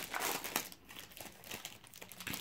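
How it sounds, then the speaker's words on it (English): Plastic shrink wrap being torn and peeled off a PlayStation Classic box, a continuous close crinkling and crackling with brief rustling bursts, fairly faint and without speech. "I'll just open the wrap up."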